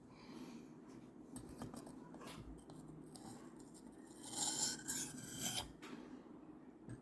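A knife blade rasps over a 400 grit sharpening stone set in rubber mounts in a faint, continuous scraping rhythm that grows louder and grittier toward the end.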